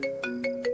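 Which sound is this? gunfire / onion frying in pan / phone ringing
phone ringing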